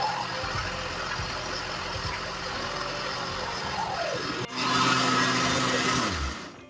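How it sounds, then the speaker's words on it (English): A blender whirs steadily at close range while blending a pumpkin smoothie, its motor pitch dropping and then surging louder before winding down at the end. "I'm gonna cover the blender and give that a blend until everything is smooth"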